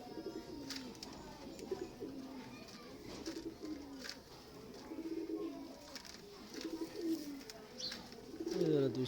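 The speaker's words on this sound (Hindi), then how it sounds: "बहुत नायाब कबूतर।" Bloodline-bred pigeons cooing, a series of rhythmic throaty coos from several birds nearby over a quiet background, with faint talk in places.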